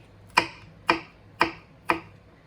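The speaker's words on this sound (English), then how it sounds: "slice the garlic like this in half so it's easier to dice" A knife chops down through garlic cloves on a cutting board, four crisp, evenly spaced knocks about half a second apart, close and clear with no voices.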